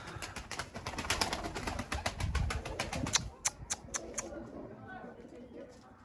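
Tumbler pigeons, four-year-old flying birds, give off dense fluttering and clapping wing sounds with a cooing undertone, busy for the first three seconds before thinning to sparse claps. A voice talks through the clip.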